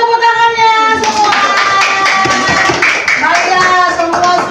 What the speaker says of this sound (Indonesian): beri tepuk tangannya semua